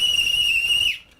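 A single sharp, steady whistle blast at a street march, loud and near, held for about a second before cutting off abruptly, with no talking.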